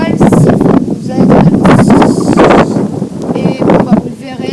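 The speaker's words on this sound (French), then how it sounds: "il y a un peu de vent" Wind gusts hard across a microphone outdoors at a nerf gun session, with loud, rumbling buffeting and rustling that rise and fall without a break.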